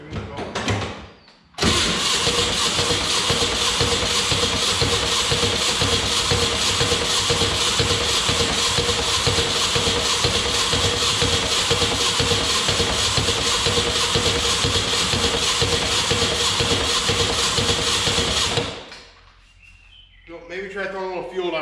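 An abandoned 1962 dune buggy engine cranks briefly, then catches and runs loud and steady with a rough, throbbing roar for about seventeen seconds before cutting out, with a voice heard faintly afterward.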